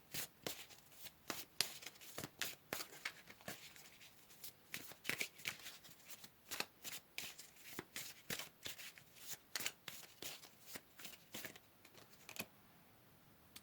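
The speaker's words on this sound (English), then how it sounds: "Let's go ahead here and pull some more cards." Tarot cards shuffled by hand for a reading, a long run of crisp, rapid riffling slaps and flicks at close range, steady and uninterrupted, with no voices.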